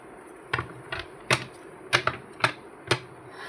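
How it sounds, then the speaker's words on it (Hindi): A tarot card deck being picked up and handled, with sharp clacking taps at irregular intervals, about seven distinct close knocks over a faint steady hiss. "Let me pick up a deck here for you."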